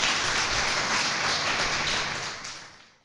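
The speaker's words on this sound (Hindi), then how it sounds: "हाँ तो बजाओ ताली" Audience clapping at a Sundarkand religious discourse, a dense, steady wash of many hands that carries loud and even for most of the stretch before fading away near the end, with no talk over it.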